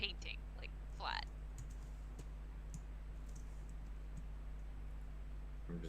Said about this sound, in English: I'm typing away now.